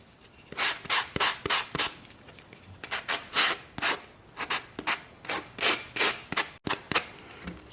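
Brisk back-and-forth sanding with a block on a small craft house, gritty rubbing strokes in uneven bursts, close and fairly loud.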